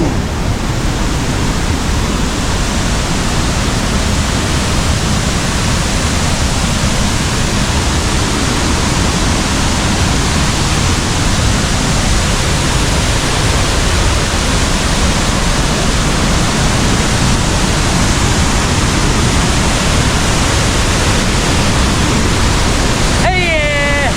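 Gitgit twin waterfall in Bali roaring as a constant, loud, broadband rush of falling water, steady and close throughout.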